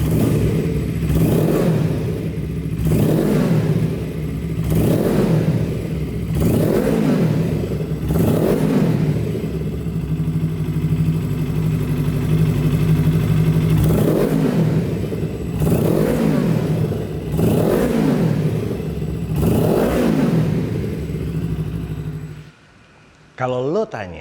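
A custom Suzuki Inazuma GW250 cafe racer motorcycle revs its engine in a steady series of surging throttle blips, loud and close, before cutting off near the end.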